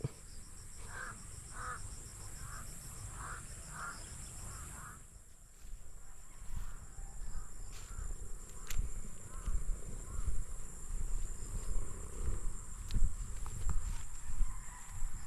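Repeated harsh crow caws at a steady rhythm for the first few seconds near a corn field, then scattered distant calls over rustling outdoor noise.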